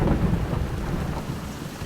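Steady rain hisses with a low rumbling thunder undertone in the Xenosaga II video game, a continuous dense wash of sound with no voices.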